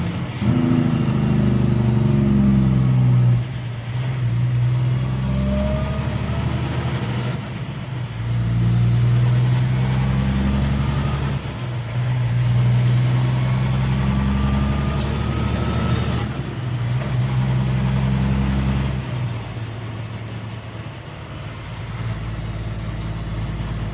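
Loud, close diesel rumble from a road train truck in Perth traffic climbing through gears, its engine note dropping and rebuilding with each shift, plus a brief air-brake style hiss near the end.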